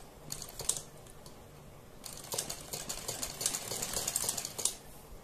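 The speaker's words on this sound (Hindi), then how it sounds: "और पूरी पट्टी पर इसी तरह से हमें सिलाई लगानी है" A sewing machine stitches down the middle of a pressed fabric strip for a neck design, giving a steady rapid clatter that pauses briefly and then resumes.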